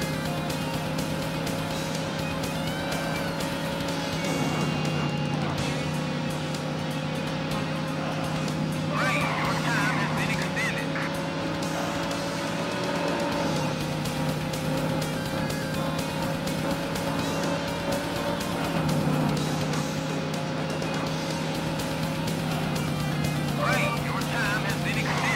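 Racing car engines from the Sega Saturn game Daytona USA drone steadily, rising and falling in pitch throughout, while a person talks continuously over them.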